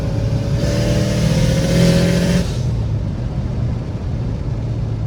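A tuned bugeye Subaru WRX engine accelerating on the road, a loud steady droning rumble with a rising tone that eases off midway into a lower cruising hum, heard from inside the car without talk.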